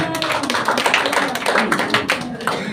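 A church congregation at a Sunday worship service claps for the wives. Dense, fast, irregular clapping sounds close and lively for a few seconds, with voices mixed underneath.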